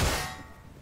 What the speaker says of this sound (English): that glass bottle just like broke